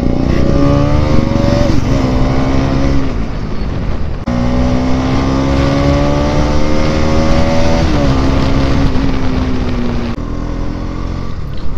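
A motorcycle ridden on a blacktop road toward Shivapuri National Park, its engine droning loud and close with rising and falling pitch as the rider shifts gears and accelerates, with no talk.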